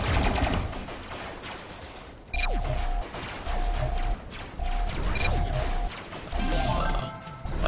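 Robocraft gunfire in combat: loud bursts of rapid shots in several separate volleys, with sharp metallic impacts and whooshing sweeps between them, no talking.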